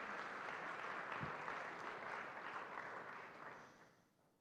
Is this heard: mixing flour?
no